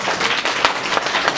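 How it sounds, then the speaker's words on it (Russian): Brief burst of applause at a children's holiday stage show, a crowd clapping in a dense, lively patter. "Аплодисменты, друзья."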